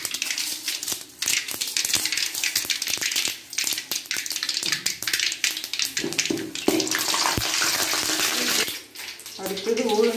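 Chana dal going into hot oil in a pan, heard as a close, loud, crackling sizzle broken by sharp clicks and pops, with brief dips and a short burst of talking near the end.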